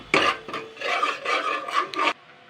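A spatula scrapes through ginger-garlic masala for ghugni in a pan, making a string of quick rasping strokes close by for about two seconds, with no voices.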